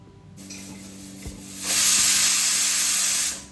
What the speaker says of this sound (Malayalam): ഇപ്പോൾ ഇതാ കുക്കറിൻ്റെ വിസിൽ വന്നിട്ടുണ്ട്